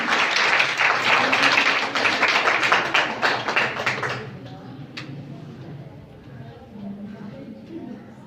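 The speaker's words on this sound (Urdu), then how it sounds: "آپ کی بھرپور تالیوں میں" An audience at a women's empowerment speech competition claps in a dense burst that dies away after about four seconds, leaving a quiet room with faint murmuring.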